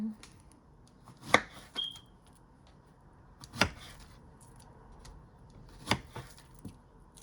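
A knife chops through plantains on a board in three or four separate firm strokes spaced a couple of seconds apart, close and clear with quiet pauses between.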